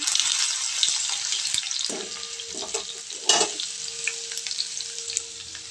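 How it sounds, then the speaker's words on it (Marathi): Mustard seeds, cumin and crushed garlic fry in hot oil in a pan, giving a steady loud sizzle and crackle with a brief burst of spattering partway through and faint scraping of stirring. "मी एकदाच मोहरी आणि जिरे टाकून घेतले त्यानंतर ठेचून घेतलेला लसूण टाकले"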